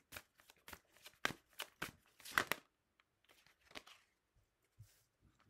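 Playing cards are shuffled in quick crisp riffles and flicks for a card draw, close and fairly quiet, in short bursts with pauses between.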